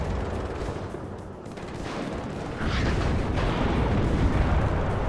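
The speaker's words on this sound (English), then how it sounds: "He's firing some artillery." Artillery fire in the WARNO real-time strategy game: a dense, continuous barrage of rumbling booms and blasts that holds steady, then swells louder partway through, with no talking.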